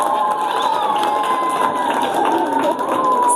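A crowd of students at a girls' secondary school in Usambara cheers loudly and continuously for a visiting ward councillor, with a sustained wash of voices and shouts filling the space.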